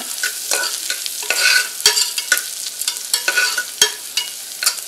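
Onions sautéing in a pan for arisi paruppu sadham, a close, loud sizzle broken by quick scraping stirs and a few sharp knocks of the spatula against the pan, without speech.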